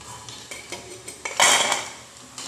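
Crunchy fried bajra and potato snacks are lifted out of the pan onto a plate, bringing a few soft metal taps and one louder clattering scrape of utensil against dishware, close by and alone.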